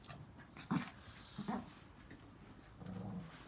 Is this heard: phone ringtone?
no